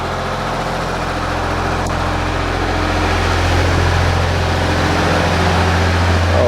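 A diesel engine runs at maximum RPM in a steady, loud, continuous drone with a deep low hum, rising slightly in intensity midway and holding constant without talk.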